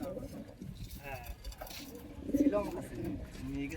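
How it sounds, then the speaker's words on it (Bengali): Racer pigeons give soft, throaty coos in short rolling phrases, close by, while people talk over them throughout. "এখানে নিচে আরেক জোড়া রেসার পায়রা বন্ধুরা শখ করুন"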